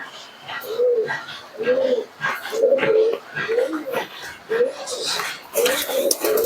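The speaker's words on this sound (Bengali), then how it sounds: "এই হচ্ছে সেই কবুতর" Pigeons kept for racing-club flying coo in a repeated, rhythmic series of soft low calls, fairly close, about six coos across the stretch with faint background noise and light rustling.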